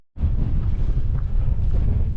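Strong wind buffets the microphone high on a mountain, a loud continuous low rumble that starts abruptly and roars steadily throughout with no voices.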